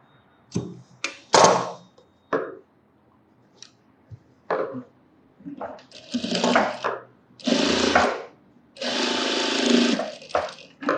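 A sewing machine stitches a blouse hook strip in short whirring bursts that grow longer toward the end, with brief pauses and small handling sounds between runs.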